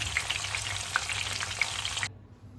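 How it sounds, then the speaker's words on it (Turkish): Steady crackling sizzle of skewers frying in hot oil, with scattered pops, cutting off abruptly near the end. "yağımı iyice kızdırıp şişlerimi ekledim. Çevirerek kızartma işlemini yapacağım."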